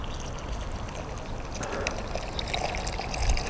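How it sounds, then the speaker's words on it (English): Water poured into a pot sunk in allotment soil, a continuous close splashing and gurgling pour with trickling that runs the whole time without speech. "I can water in and around in the pot, and hopefully the water will go right down to the roots"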